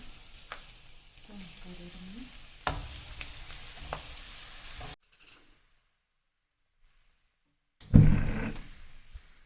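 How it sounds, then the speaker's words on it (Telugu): Frying in a pan for fish pickle is stirred, giving a close, soft sizzle with scraping for several seconds, then silence, then a louder burst of sizzling and stirring. "మంచిగా గోల్డెన్ బ్రౌన్ కలర్ వచ్చేదాకా పచ్చి వసన పోయేదాకా కలుపుకోవాలి మంచిగా"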